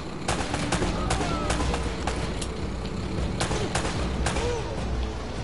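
Sustained gunfire in Uncharted: Drake's Fortune, a steady dense barrage of shots over a constant rumbling backdrop, with sharp louder reports standing out at irregular moments.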